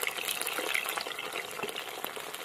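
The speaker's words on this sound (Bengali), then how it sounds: "এই দেখুন, এক পাশ ভাজা হয়ে গেছে," Chicken 65 pieces frying in a pan after being turned, giving a steady close crackle and sizzle of hot oil with small pops throughout, no voices.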